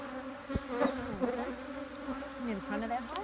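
Honey bees buzzing densely around a hive being split for the first time, a close, continuous hum with individual bees droning past, faint voices barely present.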